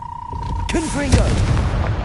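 A Confringo fire spell blasts in Hogwarts Legacy, a sharp booming burst with a short rumbling tail, heard right after a character's voice shouts.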